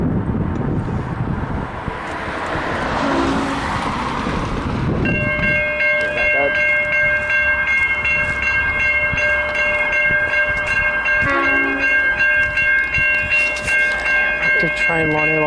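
A V/Line train rumbles toward the South Geelong level crossing while the crossing bells ring in a steady repeating pattern, loud and close, with the heavy rolling noise easing off as the chiming continues.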